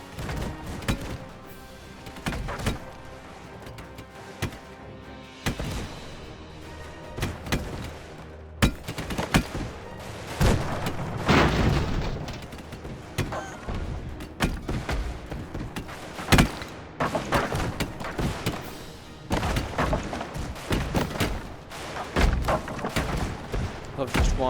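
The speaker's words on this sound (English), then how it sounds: "Love just watching our cannon slowly disassemble this." Airship cannons firing in the video game Airships: Conquer the Skies, a steady barrage of repeated booming thuds and impacts layered with battle noise, with a voice talking over the shots.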